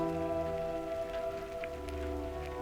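Steady rain patters down beside a very large river in the video game Cataclysm: Dark Days Ahead, a continuous, even wash of falling drops layered over a low, sustained tonal game ambience, with no voices.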